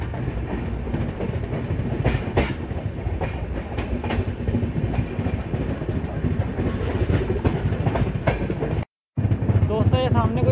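Inside the 12460 New Delhi Intercity Express running between Punjab stations, a loud continuous rumble and rhythmic wheel clatter fill the coach, with a brief cut near the end and faint voices underneath.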